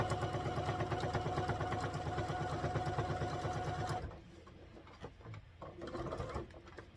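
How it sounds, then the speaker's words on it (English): A sewing machine stitching quilt binding runs in a steady, rapid mechanical chatter for about four seconds, then stops, leaving quieter handling noises and soft clicks. "I'm going to sew off to the corner."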